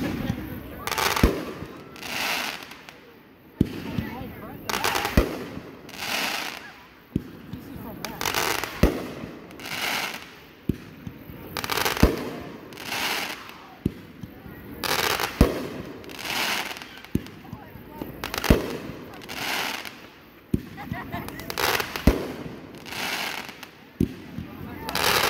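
A King of Crackle consumer firework cake fires a rapid series of thumping shots, each bursting into dense crackling, repeating steadily for about 25 seconds at a fireworks demo, with people's voices in between.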